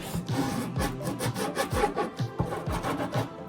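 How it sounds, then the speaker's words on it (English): A hand file rasping along the edge of rubber griptape on a board, with steady back-and-forth scraping strokes repeating in a quick rhythm, close and continuous. "A filer that I will use to sand off this edge just to make it more smooth."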